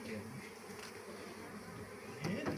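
Honey bees swarm during honey harvesting, giving a dense, steady buzz that fills the whole stretch, close and busy, with a few louder passes near the end.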